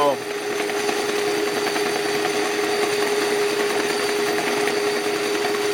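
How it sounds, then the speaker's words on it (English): A 9 x 20 metal lathe runs at its top speed, giving a steady, unbroken mechanical whine with a constant pitched hum over broad motor noise, close and fairly loud throughout. "this is the highest speed I can achieve with my lathe"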